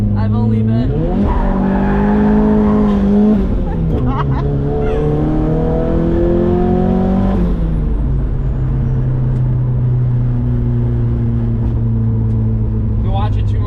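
A cheap drift car slides with its engine revving up and down in loud rising and falling sweeps while its tires squeal and skid; voices talk beneath the engine noise.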